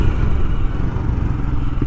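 A Royal Enfield Scram 411 motorcycle engine runs steadily while riding through town, a dense, close, loud rumble that lasts under two seconds with no voices.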